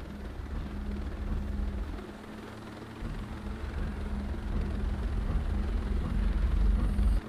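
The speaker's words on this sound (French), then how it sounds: "Oh le drone." An enemy drone flies in the shooter Ghost Recon Breakpoint, a continuous low rotor-like drone and hum that holds steady and swells slightly louder toward the end, with no talk over it.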